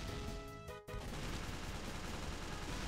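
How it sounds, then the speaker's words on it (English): Machine gun fire in the Team Fortress Arcade video game, a dense continuous burst of rapid loud shots that breaks briefly after the first second and then rolls on unbroken. "I'm just gonna rock this machine gun back and forth."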